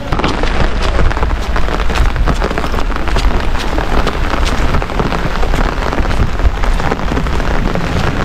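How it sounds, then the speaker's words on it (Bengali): Heavy rain pours steadily at a riverside ferry landing in a Sundarbans village, a dense continuous patter on surfaces nearby, loud and unbroken throughout. "বৃষ্টির মধ্যে"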